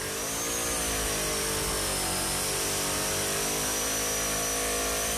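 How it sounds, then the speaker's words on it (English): Holden HZ with a blown big-block engine doing a burnout, a loud continuous roar with steady high-revving harmonics held throughout and a hiss of tyre spin on top. "this is where the HZ is really at home, turning tyres into smoke."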